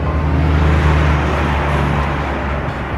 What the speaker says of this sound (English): You can hear the trucks in the background.